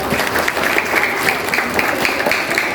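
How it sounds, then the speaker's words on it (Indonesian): Sustained audience applause at a graduation-related gathering, a dense steady wash of many hands clapping throughout with no talk over it. "Boleh berikan tepuk tangan."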